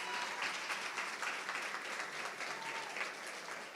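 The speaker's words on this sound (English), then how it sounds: "Round of applause for Duncan." A large audience at a state college commencement applauds, dense continuous clapping that sounds distant and fairly faint, holding steady throughout.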